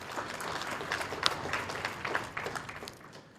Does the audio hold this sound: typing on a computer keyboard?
no